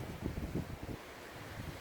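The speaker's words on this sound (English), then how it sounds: "Beautiful day. A bit windy though." Steady low wind rumble buffeting the microphone outdoors, with gusty bursts near the start and no talking.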